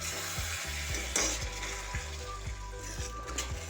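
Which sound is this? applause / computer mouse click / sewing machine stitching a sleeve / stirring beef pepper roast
stirring beef pepper roast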